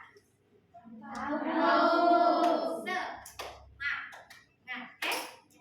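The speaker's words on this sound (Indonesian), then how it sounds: "Coba sekarang kita tepuk semangat." A primary school class performs the tepuk semangat clap chant: sung voices lead into a string of sharp rhythmic hand claps that alternate with short vocal calls, close by in a classroom.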